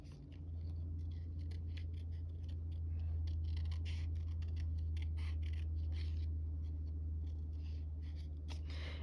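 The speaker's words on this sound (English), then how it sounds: "I think I need to do some more fussy cutting around her. A little bit more kiss cutting." Scissors fussy cutting around a paper image for a junk journal card, with many small repeated snips and rustles, close and quiet over a steady low hum.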